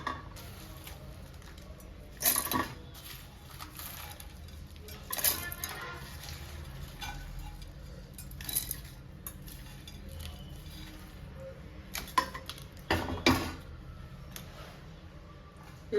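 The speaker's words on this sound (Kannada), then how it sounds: "ಇವಾಗ ನಾನು ಮಿಕ್ಸಿ ಜಾರ್ಗೆ ಹಾಕ್ತೀನಿ." Fried turkey berries are tipped into a mixer grinder jar, giving several sharp clinks and clatters of metal and small pieces against the jar over a low background hum.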